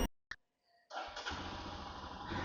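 A motorcycle engine cranks with a short burst, pauses, then catches and settles into a steady, close idle that runs to the end without any talk.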